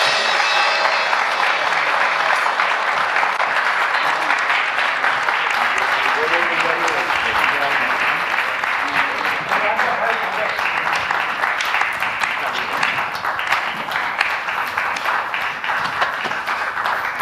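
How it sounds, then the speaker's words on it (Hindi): Audience applause after a stage performance of a play about Sant Tukaram at a theatre festival, a dense, steady wash of clapping filling the room, with voices and cheering mixed in throughout. "जोरदार तालियों से स्वागत करें आज की इस प्रस्तुति का।"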